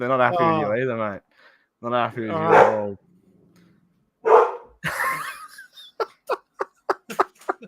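A dog barking indoors, a run of sharp, close barks in quick succession following a man's speech.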